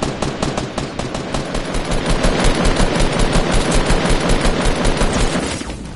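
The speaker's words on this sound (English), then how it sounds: "They're shooting back." Rapid automatic gunfire from enemies in a video game, loud and sustained in a dense, steady burst of overlapping shots for several seconds before trailing off.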